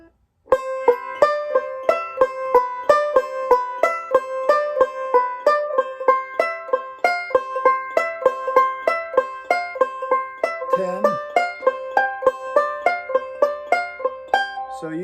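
Banjo improvising over a song's solo with extended chord shapes, a steady stream of bright, crisp plucked notes in even rhythm, close and clean with no voice.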